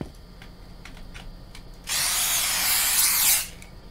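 Rat spray fired from a can in a horror video game set in a haunted convenience store, a loud close hissing burst lasting about a second and a half after quieter clicks and faint hum.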